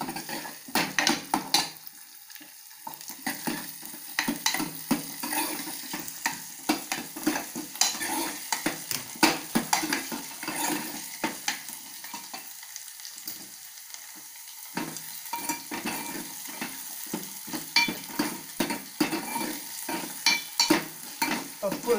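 Moong dal dry-roasting in a pan, with soft sizzling under repeated sharp scrapes and clinks of a spatula against metal. The irregular stirring bursts continue at close range, and there is no speech.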